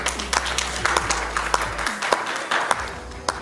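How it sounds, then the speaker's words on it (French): An audience at a French-language personal development talk claps for a speaker arriving on stage, a moderately loud burst of scattered hand claps over a low hum that cuts out partway through. "Vous l'applaudissez, vous l'encouragez."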